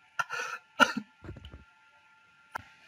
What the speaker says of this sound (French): il faut que je tousse un coup